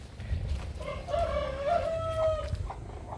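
A native chicken in a backyard gives a drawn-out, wavering vocal call at moderate distance, against faint outdoor background noise.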